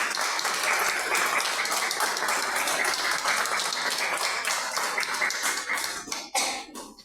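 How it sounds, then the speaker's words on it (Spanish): An audience gives loud, sustained applause, with dense, steady clapping from many hands that fades away near the end. "a quienes les pido un fuerte aplauso"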